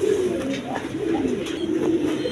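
Pigeons at a sale coo in soft, repeated low bubbling calls, close and steady, with faint background noise and no clear talk.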